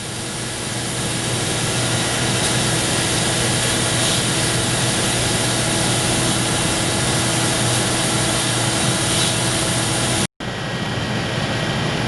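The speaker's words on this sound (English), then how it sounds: "Now that the chamber is completely vented to atmospheric pressure, we can open it." The vacuum chamber of a Bendix thermal evaporator vents to atmosphere with a loud, unbroken rushing hiss that cuts out abruptly near the end before a fainter hiss resumes.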